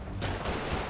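Dense, loud bursts of gunfire crackle continuously in a short rapid volley, from a battle in the video game Marvel's Spider-Man.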